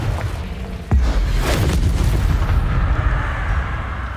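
A Confringo blasting spell cast in the fantasy game SpiritVale: one loud deep boom near the start, followed by a long rumbling roar that fills the rest of the moment.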